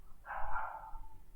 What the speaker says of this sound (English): I didn't know they had dogs on this turtle.